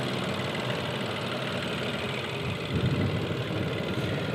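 A turbocharged 1.3-liter three-cylinder engine idles in a 2024 Buick Encore GX Sport Touring, a steady low hum with faint rhythmic pulsing, heard close with the hood open and nobody talking.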